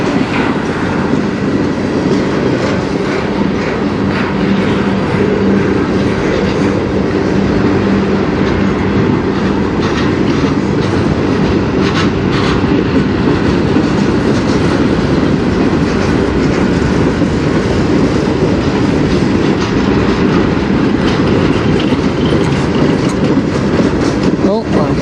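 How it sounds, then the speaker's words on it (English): A long CN freight train rumbles past continuously on the Strathroy Subdivision, a steady heavy roar of rolling wagons with faint clickety-clack from the wheels throughout. "Looks like a fairly big train."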